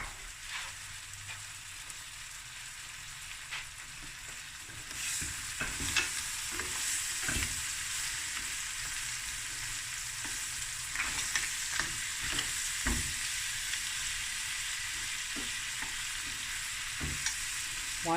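Prawns, crayfish meat and mussels fry in a pan for seafood rice, giving a continuous sizzle broken by scraping stirs and irregular crackles, close and fairly loud with no talking.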